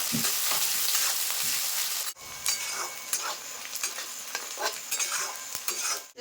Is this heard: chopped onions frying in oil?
yes